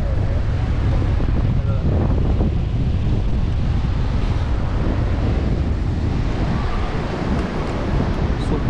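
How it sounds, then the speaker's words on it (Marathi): Sea waves and strong wind roar at Ganpatipule beach, a loud, continuous rush with heavy wind buffeting the microphone throughout and surf churning underneath. "समुद्र किनारा."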